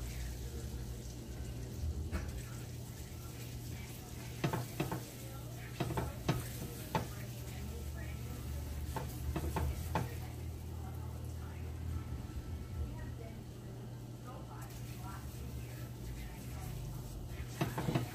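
Flour stirred into hot margarine in a pan for chicken gravy, a steady low sizzle with scattered scraping and clinking strokes throughout.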